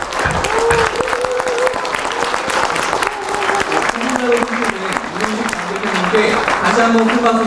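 A large crowd at a party convention applauds steadily after a presidential candidate is confirmed, dense clapping filling the hall while a voice talks over it.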